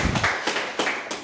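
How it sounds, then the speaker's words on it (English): A handful of separate hand claps at a startup pitch event in London, about four or five spaced beats, fairly close and moderately loud, with no talk. "Big round of applause there."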